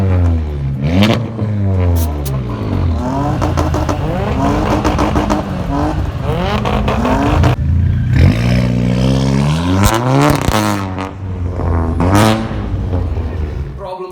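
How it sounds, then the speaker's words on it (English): A car engine revs repeatedly, exhaust note sweeping up and down in pitch through rapid gear changes, loud and close. "something to make the car sound better. Yes, I'm talking about exhaust."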